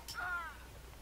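A single crow-like caw rings out briefly in the Age of Mythology game, a short, faint bird call set against quiet background.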